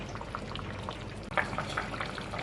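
Leftover coconut milk poured into a cooking pot, a soft continuous liquid trickle and splash at close range, moderately quiet, with a brief sharper splash midway.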